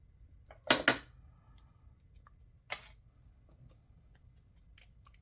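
Scissors cut paper for a handmade journal tag, giving a quick pair of crisp, close snips followed by a lighter single snip after a pause, all against quiet room background.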